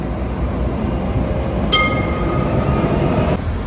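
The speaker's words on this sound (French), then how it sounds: "Le tramway de Nantes aussi." A Nantes city-centre tram rolls past with a steady low rumble, a brief metallic clink and squeal standing out midway.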